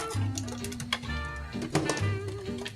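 A vintage Corona typewriter being opened up for repair gives off irregular metallic clicks, taps and clatters of keys and parts, close and uneven against a faint background hum.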